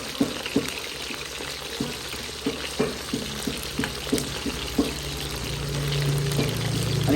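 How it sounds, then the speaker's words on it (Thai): Food frying in oil over low heat, with a soft bubbling sizzle under repeated clinks and scraping knocks from a utensil, followed by a swelling steady hiss near the end. "อันนี้ทอดนะทอดต้องแบบทอดเย็นๆเนาะ"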